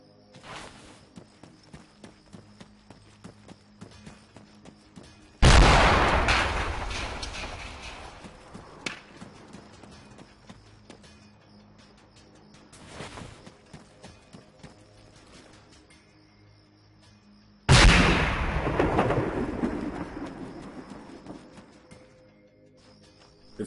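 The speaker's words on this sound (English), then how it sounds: "I'll try using grenades at first since it's a smaller IED." Two heavy grenade blasts set off a small IED in the ARMA 3 video game, each a loud booming burst with a long decaying rumble, spaced several seconds apart among faint clip-clopping hoofbeats and ambient game noise.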